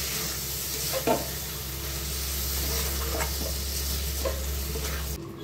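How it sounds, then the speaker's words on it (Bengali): Raw rice sizzling in a hot pan while it fries for chicken pulao, with a continuous close crackle and occasional soft scrapes and clicks from stirring. No one speaks. "চালগুলো দিয়ে 1 মিনিটের মতো ভেজে নেব।"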